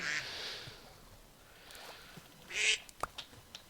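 Ducks in modded Minecraft let out several game quacks, some with faint sharp hit sounds, spaced irregularly over a quiet background with no talking.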